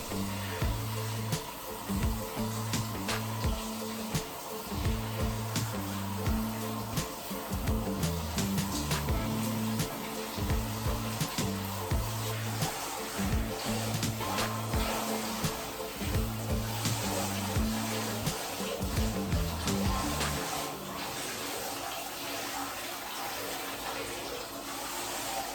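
Water runs steadily while natural 4c hair is rinsed out on wash day, a continuous splashing gush with irregular low thumps, close and moderately loud throughout.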